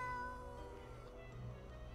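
A cat meows in the video game Death and Taxes, a single drawn-out call standing out over a steady game music bed, fairly clear and close.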